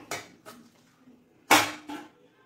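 Metal clanks and knocks from a pot of steamed modak being covered with its lid, four sharp close hits with a louder pair near the end and quiet gaps between.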